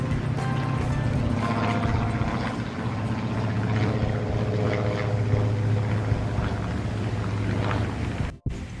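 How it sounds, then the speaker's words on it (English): A biplane passes overhead outdoors in an Ottawa garden, a steady droning propeller engine hum that stays constant for several seconds before ending in a brief handling bump. "Oh, there's a biplane up there."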